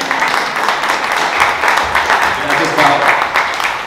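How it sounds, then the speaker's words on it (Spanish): An audience at a book presentation applauds, with dense, steady clapping that stays fairly loud throughout and rises slightly near the end. "Aplauso."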